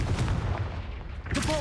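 The Confringo blasting spell from the game Hogwarts Legacy bursts as a booming, explosive crack with a rumbling tail, mixed with game sound effects and a brief rising tone near the end.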